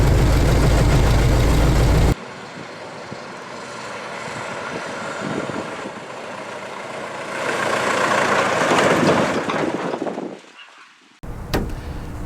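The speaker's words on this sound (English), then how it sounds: "Yep, still runs and drives like a Model T." A 1918 Ford Model T engine runs while driving, a loud rumble that cuts abruptly to a quieter running drone, swells again, then dips before returning; no talking.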